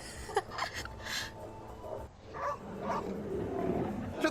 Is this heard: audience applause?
no